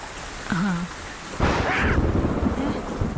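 A deep rumble of thunder rolls in and lingers over a steady wash of rain, with a brief low voice-like sound near the start.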